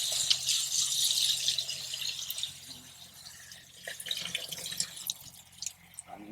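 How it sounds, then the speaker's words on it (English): Water pours into a homemade garden liquid feed container of steeped weeds, a strong splashing stream in the first seconds that thins to scattered drips and trickles, fairly close, with a steady low hum underneath. "You fill it up with water up to here."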